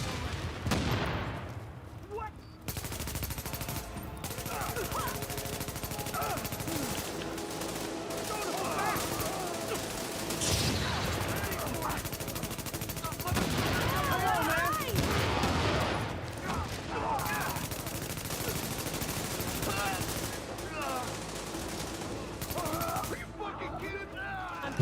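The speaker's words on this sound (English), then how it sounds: "That's MG5. Sounds weird." An MG5 machine gun fires in the shooter The Division: repeated bursts and rattling automatic fire with other shots mixed in, under ongoing talk from players.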